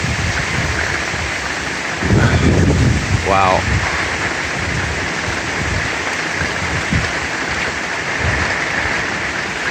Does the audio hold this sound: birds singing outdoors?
no